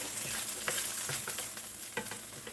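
A large omelet sizzling in a pan right after being flipped, a steady close frying crackle with a few small scrapes and taps.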